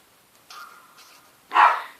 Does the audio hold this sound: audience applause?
no